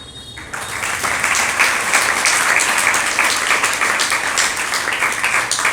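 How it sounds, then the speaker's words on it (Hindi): Audience at a religious sermon breaks into applause, a loud, sustained wash of many hands clapping that starts abruptly and continues steadily without speech. "किस पर ताली बजाई?"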